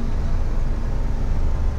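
Steady engine drone from a 1973 BMW 3.0 CSi E9 with a fuel-injected inline six and sticky throttle, a loud continuous low hum heard from inside the car.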